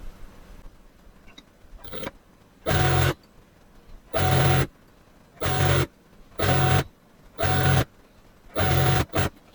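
A sewing machine stitches elastic onto boys' underwear, running in six short, loud, evenly spaced bursts of rapid mechanical whirring with quiet pauses between them, and no one talks.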